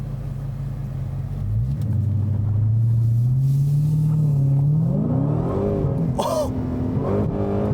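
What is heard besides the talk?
Dodge Challenger SRT Hellcat Widebody accelerating on the road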